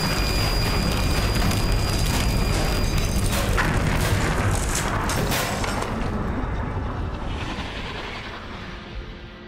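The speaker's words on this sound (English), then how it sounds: "What, did he figure out how to make rocks explode?" A deep, sustained rumbling boom from a rock exploding in Myst IV: Revelation rolls on loudly for several seconds, then slowly fades away into a quieter, dwindling tail.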